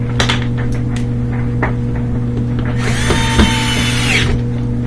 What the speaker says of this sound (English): Put in those screws.